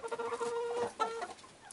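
A rooster, a candidate fighting cock kept in a cage, clucks in a steady run of short calls, close and clear with no talk.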